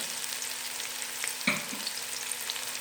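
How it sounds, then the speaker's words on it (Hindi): Two medium-sized chopped onions frying in hot oil for a chicken lasagna, with a steady close sizzle and a brief stir or clink partway through. "ऑयल जो है वो गर्म हो चुका है, इसमें हम ये 2 मीडियम साइज़ के प्याज कटे हुए डालेंगे।"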